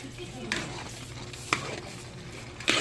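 Blanched chayote, carrot and jicama stirred in a pan, with a few sharp scrapes and knocks of the spoon about once a second over a low sizzle and faint background voices.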